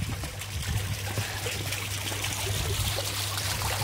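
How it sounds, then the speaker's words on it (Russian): Water trickles from a stone outlet into a garden koi pond at a country house, a steady, close splashing flow with a low pump hum underneath, continuous for the whole few seconds and with no voices. "С камня тоже идет выход воды."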